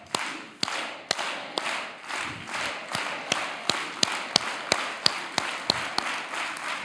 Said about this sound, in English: Let's all do it together with an organized hand clap